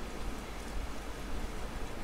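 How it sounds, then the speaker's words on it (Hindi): Heavy rain in the video game Resident Evil 3, a steady dense hiss of falling water that holds at an even level throughout, moderately loud and with no voices. "बाहर बारिश हो रही है क्योंकि जैसा साउंड आ रहा है। हाँ और इतनी ज़्यादा हैवी बारिश आ रही है"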